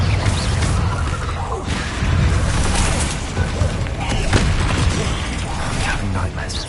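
Bombarda explosion spell in the video game Hogwarts Legacy, a steady din of blasts, whooshes and crashing debris filling the whole stretch, with a voice speaking over the battle noise.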